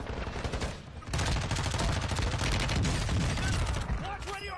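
Dense, rapid gunfire from a military shooter video game crackles loudly and nearly nonstop, with overlapping bursts and a brief quieter lull near the start, and a voice faintly mixed beneath the shooting.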